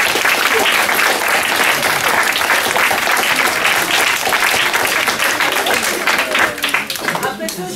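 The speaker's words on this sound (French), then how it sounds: "je pense qu'on peut encore applaudir nos deux représentants français" Loud, sustained audience applause in a hall for two French representatives in an Erasmus+ project, many hands clapping densely and evenly before a voice begins to speak near the end.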